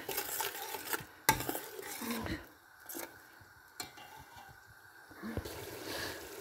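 Chilies stir-fried in a pan, quiet sizzling with scattered scrapes and clatters of a spoon against the pan, separated by gentle pauses.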